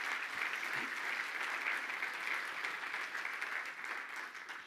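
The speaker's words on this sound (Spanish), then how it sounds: "Dele fuerte ese aplauso al Señor." Church congregation applauding together at a Spanish-language evangelistic service, steady sustained clapping from a crowd, fairly distant and even throughout, easing slightly toward the end.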